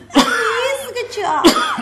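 A storytelling performer imitates an old man's coughing, with two harsh, throaty cough bursts separated by a drawn-out, wheezing vocalised groan, close and loud.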